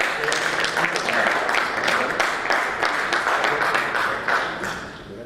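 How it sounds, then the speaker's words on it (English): Audience at a tech conference event applauding a VP from Intel, steady dense clapping from many hands across the whole stretch, fairly loud and continuous, tapering slightly near the end. "So everyone give him a round of applause."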